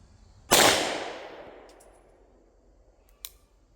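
Polish P64 pistol firing 9x18 Makarov ammunition, a single sharp close shot with a long decaying echo, followed by a faint metallic click.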